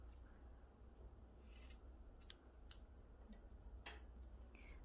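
Scissors snip crochet yarn while finishing a beginner crochet drawstring pouch bag, a few quiet sharp clicks spaced irregularly against faint room hiss, with no talk.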